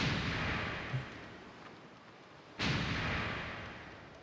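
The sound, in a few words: rune cannon firing in the Suikoden V video game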